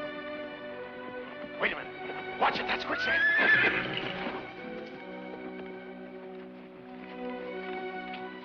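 A horse neighs loudly at close range in a Western river-border setting, the whinny rising and falling over a few seconds amid a brief flurry of hooves and movement, then settling into quieter background noise.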